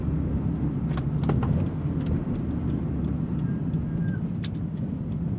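Toyota 86 sports car driving, a steady broad engine and road rumble heard from inside the cabin, continuous and moderately loud with no talking.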